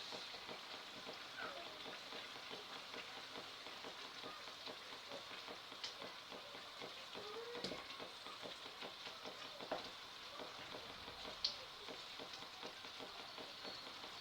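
Fried potatoes and small vegetables sizzling in a pan while being stirred, a faint steady crackle with occasional scraping clicks of the utensil, no talk.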